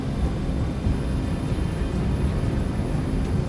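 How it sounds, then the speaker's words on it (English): A Pan Am airliner taxis off the runway in fog, its engines producing a steady, broad roar that holds even and unbroken throughout, with no voices. "The Pan Am crew will be turning off the runway in just a few more yards."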